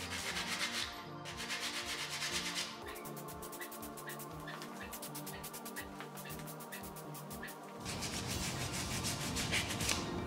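Steady rasping of sandpaper rubbed back and forth over a 3D-printed plastic scale model submarine hull, close up, with short rhythmic strokes in the middle stretch.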